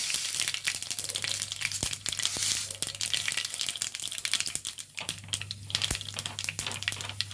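Fenugreek seeds sizzling in hot coconut oil in a pan, a crackling, crinkling patter of quick pops over a low steady hum, close and moderately quiet.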